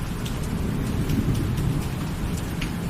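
A nighttime thunderstorm: heavy, steady rain pours down while low thunder rolls continuously underneath, with no voices.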